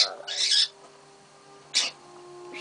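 A pet budgie chirps in two sharp, bright bursts separated by a pause, close to the microphone, over a quiet background hum.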